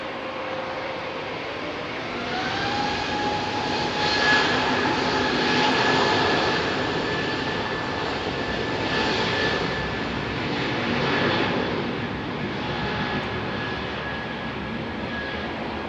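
Heavy Airbus A380 jets, a British Airways and a Finnair airliner, depart Heathrow with a long, sustained engine roar and a steady whine, loud and distant-to-near, swelling and easing over the take-off with no talk.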